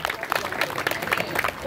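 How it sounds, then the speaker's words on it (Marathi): Audience clapping at a women's hari-naam gathering in Kalaram temple, Nashik: a dense burst of many hands applauding together, mixed with crowd murmur and some voices. "टाळी वाजवा"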